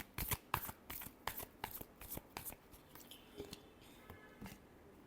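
Tarot cards being shuffled in a close, crisp series of riffling slaps and flicks, about a dozen quick bursts at an uneven rhythm with short pauses, alone without talk.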